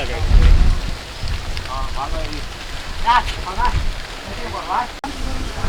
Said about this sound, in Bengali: হালকা গুড়ি গুড়ি গুড়ি বৃষ্টি পড়ে